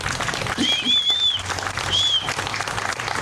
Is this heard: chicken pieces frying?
no